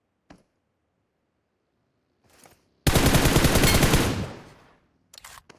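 Gunfire in a mobile video game played on an iPad mini 6, a single fast automatic burst lasting about a second before fading out, with a few brief faint shots before and after amid near silence.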